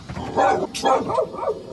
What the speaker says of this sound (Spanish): cállese, perro